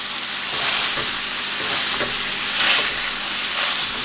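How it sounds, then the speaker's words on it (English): Sausage sizzling loudly in a pan as it is broken up, a steady, close frying hiss with faint scraping of the utensil underneath. "Gotta break all this sausage up."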